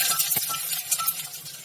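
Chopped onions hitting hot mustard oil in a pan for a jaggery bitter gourd dish, giving a steady broad sizzle with a few clinks of a utensil, close and alone.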